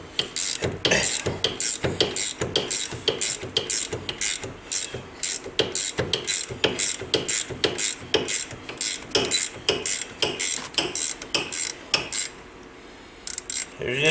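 A hand ratchet loosens the 15 mm brake caliper bolts on a Polaris RZR 800, giving a fast, steady run of sharp, close metallic clicks that continues for about twelve seconds.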